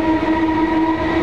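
A train sounds its horn at London Fields station, a loud steady tonal blast held for just over a second with no talking.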